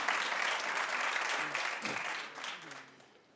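Steady applause from a TV talk show studio audience, a dense wash of clapping that slowly fades toward the end.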